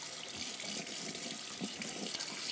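Water runs steadily from a kitchen tap during dinner preparation, a continuous close hiss and splash that lasts throughout with no break.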